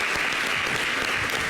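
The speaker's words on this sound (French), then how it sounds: "Merci de l'applaudir." Audience applause in a television studio show, a loud, continuous burst of many hands clapping that fills the whole moment with no voices on top.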